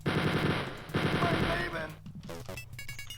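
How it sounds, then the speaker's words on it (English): Rapid chain gun fire in Wolfenstein 3D, two fast rattling bursts in the opening seconds over game music, then a few scattered shots and game sounds. "Just stick with the chain gun."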